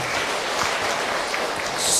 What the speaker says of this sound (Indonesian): Tepuk tangan buat ibu tadi yang bertanya.